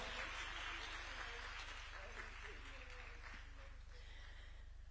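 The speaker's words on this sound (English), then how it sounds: "We can keep clapping for her until she takes a seat" Steady audience clapping at a summit in Africa, fairly quiet and continuous, with a low hum underneath and faint voices mixed in.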